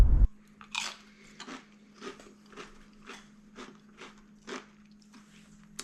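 Crisp tortilla chips from a Southern California taco spot crunched in a series of close, distinct bites, roughly one every half second, over a steady low hum with no talking.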